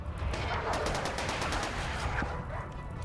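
Automated turrets in RimWorld fire in a steady rapid burst, a dense rattle of gunfire that keeps going at an even loudness for the whole stretch with no pauses.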